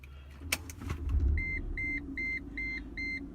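A 2005 Mercedes C230 Kompressor's supercharged 1.8-liter engine turns over and settles into a low idle rumble while an electronic chime beeps in a steady repeating pattern.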